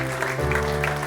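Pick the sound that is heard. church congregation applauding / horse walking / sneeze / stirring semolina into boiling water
church congregation applauding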